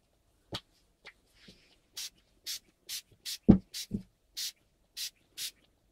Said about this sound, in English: And I'll be just spraying randomly.